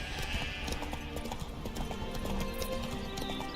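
Geralt's horse Roach in The Witcher 3 clip-clops along at a steady gait and gives a whinny, with hoofbeats close and clear over a low game ambience.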